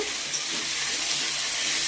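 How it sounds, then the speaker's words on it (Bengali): Potatoes frying in hot oil, a steady close, bright sizzling hiss that holds unbroken throughout. "এবার আলুগুলো ভেজে নিচ্ছি।"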